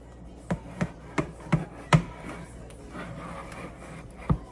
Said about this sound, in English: I am using a spatula right now